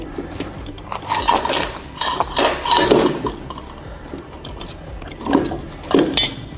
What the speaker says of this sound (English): Set my binder the way I want it. Attach it right there.